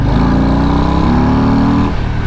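Loud, close engine of a 2024 Harley-Davidson Lowrider S motorcycle revving, a deep throbbing note rising in pitch before dropping back after about two seconds.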